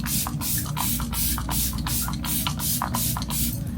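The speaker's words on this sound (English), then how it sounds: "Made by Mario setting spray," A Made by Mario setting spray bottle gives a rapid series of about a dozen short, fine misting bursts in quick rhythm, close and steady, with no talking.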